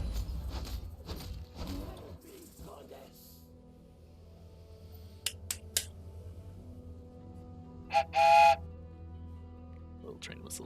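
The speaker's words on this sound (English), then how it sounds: "Little train whistle." Short bright whistle from an in-game steam train in Last Epoch, a brief tonal burst standing out near the end amid sparse game effects, with someone talking earlier in the clip.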